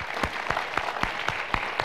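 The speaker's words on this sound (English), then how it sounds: "a warm round of applause." Applause at a teen talk show against youth violence, heard as a short run of distinct, evenly spaced claps at a moderate level rather than a full crowd ovation.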